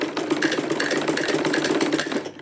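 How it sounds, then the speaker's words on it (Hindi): A sewing machine runs steadily, stitching fabric along a round neckline, its rapid needle chatter and motor hum close and continuous throughout with no talking. "इसको बिल्कुल इस तरीके से हम साइड से इस पे सिलाई कर लेंगे"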